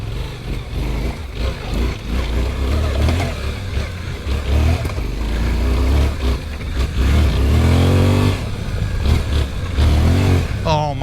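A 2024 Suzuki V-Strom 800DE on fresh Dunlop tires, ridden hard off-road, its mid-pitched engine revving up and down in close, loud surges with wind and road noise throughout.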